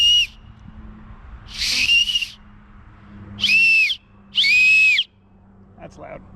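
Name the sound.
loud whistle blown through cupped hands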